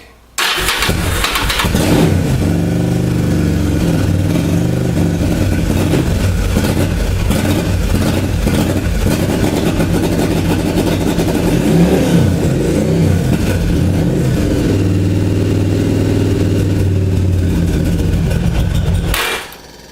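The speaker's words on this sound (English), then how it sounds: "After sitting for 6 years, that thing cranked right up" An engine that has sat unused for six years cranks and catches with the choke on, then runs loud and close with uneven revving for nearly twenty seconds before cutting off abruptly.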